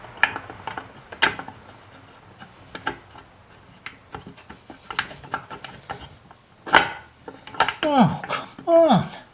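Washer being fitted onto a Yamaha Commando motorcycle part, with close metallic clicks, clinks and small scrapes scattered throughout, growing busier toward the end, where a voice briefly speaks.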